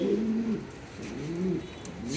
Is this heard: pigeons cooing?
yes